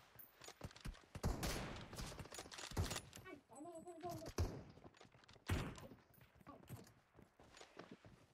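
Gunfire in the mobile battle royale game PUBG Mobile comes as scattered sharp shots and short bursts, with a voice speaking over the game sounds.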